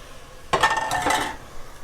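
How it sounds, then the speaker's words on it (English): Broth is ladled into a pot of risotto, a short burst of liquid splashing and a metal ladle clinking against the pot, close and clear over a quiet kitchen. "So I'm going to start with 2 ladlefuls of broth."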